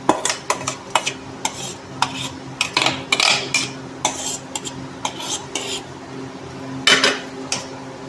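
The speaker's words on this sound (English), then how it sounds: "Now we transfer this into a bowl" Mixed fruit pulp for sugar-free jam being scraped and spooned into a bowl, a series of sharp metallic clinks and scrapes of a utensil against the container at an irregular rhythm, close up.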